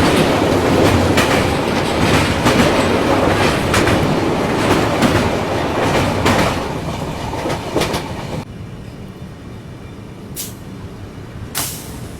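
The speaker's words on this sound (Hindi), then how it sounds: "अभी अपनी ट्रेन पहुंच चुकी है कोकराझार रेलवे स्टेशन" A train running on rails near Kokrajhar in Assam's Kokrajhar district, with steady loud rumbling and clickety-clack of wagons that fades to a quieter hum, broken by a couple of sharp brake hisses near the end.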